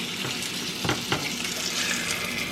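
Chicken thighs fry in a hot pan with a steady, close sizzle and a couple of sharper pops and crackles, with no one talking.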